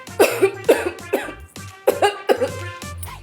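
A person coughs repeatedly up close, about eight loud, harsh bursts in a rough irregular rhythm, with short pauses between groups.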